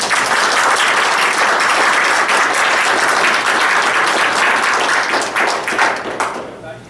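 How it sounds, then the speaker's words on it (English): At a borough council meeting, the audience gives a big round of applause, loud continuous clapping sustained for several seconds before thinning out at the end. "let's give them a nice big round of applause"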